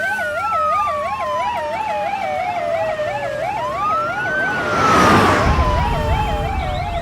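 A loud ambulance siren close by in a Hindi-dubbed movie, rapidly warbling up and down while a long swooping wail rises and falls, with a rush of noise midway.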